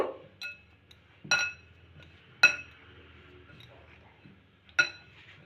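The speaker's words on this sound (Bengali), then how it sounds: "এখানে কিন্তু আমি এক চিমটে খাবার সোডা দিলাম ভালো করে মিশিয়ে নেব" Flour is mixed with baking soda in a bowl while making labongo latika, a Bengali sweet, heard as four or five sharp clinks of a utensil against the bowl, spaced irregularly over quiet, close and clear.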